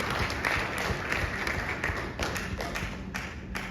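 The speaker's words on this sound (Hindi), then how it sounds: "मैं चाहता हूं जोरदार तालियां बजाइए हमारे मैनेजिंग डायरेक्टर असीम सूद जी के लिए।" A crowd at a business meeting in Goa claps for managing director Aseem Sood, with continuous moderately loud applause and some sharper taps standing out.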